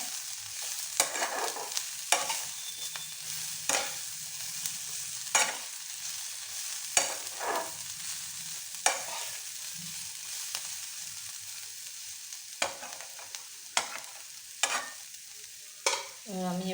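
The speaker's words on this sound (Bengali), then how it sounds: "একটু নাড়াচাড়া করে নিলাম।" Bottle gourd peel frying in a pan, stirred in repeated scraping strokes at a steady, unhurried rhythm over a soft, continuous sizzle, close and moderately loud with no talking.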